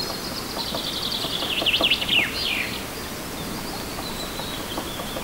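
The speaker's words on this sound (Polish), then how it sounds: "A tam się zięby ganiają." Chaffinches chasing one another, giving a short burst of high chirping calls near the start over a quiet outdoor background, then fading out.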